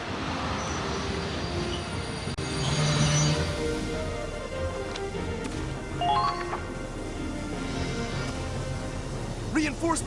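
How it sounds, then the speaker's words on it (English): A train pulling in within the Valkyria Chronicles 4 video game, heard as steady rumbling wheels and rail noise with brief metallic squeals, continuous and fairly loud under a talking voice. "The train is late, or is it just on time?"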